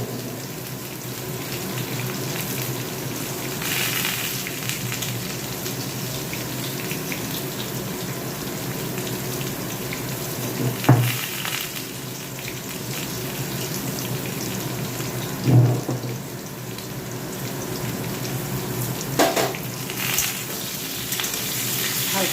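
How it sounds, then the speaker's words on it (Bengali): Potatoes frying in oil in a home kitchen give a steady, even sizzle that runs throughout at a constant level, with a few brief louder clatters breaking in along the way. "আলু ভেজে তোলা হয়ে গেছে"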